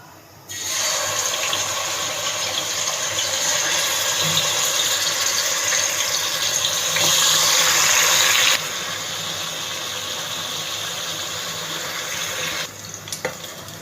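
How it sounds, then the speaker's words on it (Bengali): Pieces of rohu fish fry in oil in a wok, a loud continuous bubbling hiss that holds steady for several seconds, swells slightly, then settles to a softer sizzle. "এতেই আমি মাছগুলিকে ভেজে নেব।"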